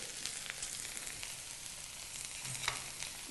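Okra curry with spice powder sizzles quietly in a pan, a soft continuous frying hiss with a few faint stirring scrapes near the end and no talking.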